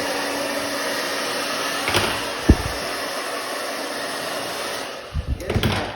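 A hair dryer drying hair, blowing a loud, steady close-up whoosh for most of the clip, with a sharp tap midway and brief bumps and shifts in airflow near the end.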